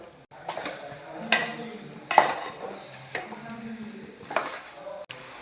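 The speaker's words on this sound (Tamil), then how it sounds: "மேரினேட் பண்ண சிக்கனை போட்டு நல்லா வதக்கணும் அந்த மசாலாவோட." Marinated chicken is sautéed with masala in a pan, with intermittent metal clinks and scrapes of a spoon stirring at close range over a faint sizzle, about five distinct strikes.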